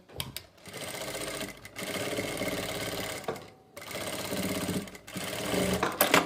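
A sewing machine stitches the shoulder seam of a kurti in long, rapid, whirring runs broken by short pauses, loud and close with no talking.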